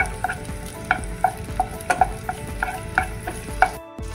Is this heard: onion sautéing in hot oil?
yes